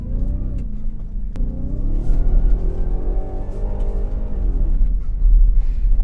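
A Ford Ranger Raptor truck is driven off-road under throttle, its engine giving a steady close rumble that swells and eases with the throttle, with no one talking over it.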